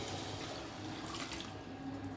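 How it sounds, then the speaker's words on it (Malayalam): Boiled tamarind water is poured into an Ernakulam-style tuna chilli fish curry. A steady, soft splashing pour runs throughout at a fairly faint level. "ഇനി ഇതിലേക്ക് നമ്മൾ തിളപ്പിച്ച് വെച്ചേക്കണ പുളിവെള്ളം ഉണ്ടല്ലോ അത് അങ്ങോട്ട് ഒഴിച്ചു കൊടുക്കുക"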